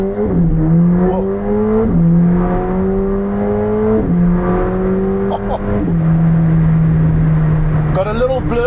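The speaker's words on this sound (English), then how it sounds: "Got a little blurb there when changing gears" McLaren 765LT supercar engine pulling hard through the gears, with rising revs broken by a crisp blip at each of several upshifts. It is loud and close inside the car, and a voice speaks briefly near the end.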